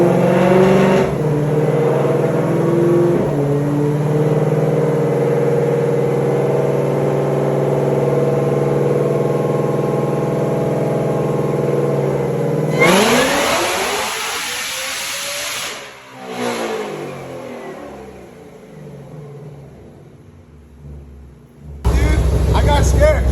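A 2020 Shelby GT500 making over 1200 wheel horsepower on its stock engine and supercharger roars loudly and steadily under hard acceleration. The sound then sweeps down in pitch and fades quieter before a sudden loud burst returns at the end.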